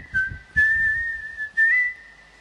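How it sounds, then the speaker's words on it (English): A clean, high whistled melody, a short sample pulled from TikTok, sustained tones with brief slides between notes over faint low thumps. "I got this whistle off, TikTok"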